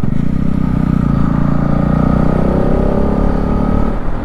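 A motorcycle rides along a road in Odisha, its engine a steady, loud, close drone with rumbling low tones and wind noise throughout, and no talking.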